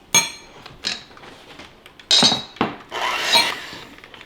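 A spoon knocks and scrapes around a bowl while flour is mixed for a sweet potato cake, giving sharp clinks and clatters in uneven bursts, close and fairly loud.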